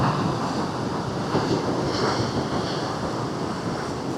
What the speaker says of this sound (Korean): 저 파도 오는 거 보세요